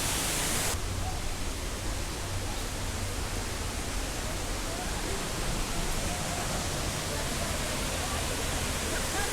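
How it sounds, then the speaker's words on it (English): Waterfall in Pisgah National Forest, a constant broadband roar of falling water, loud and unbroken across the whole stretch with no other sounds standing out. "See if we can get a good look at this waterfall from down below."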